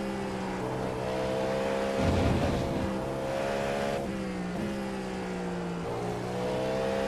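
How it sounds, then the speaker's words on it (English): A race car in the iRacing game's 12 Hours of Sebring endurance race drones with a steady high engine tone, swelling into a louder, rougher rush as it passes by, then settling back to the sustained whine. "That'd be Huge flyby."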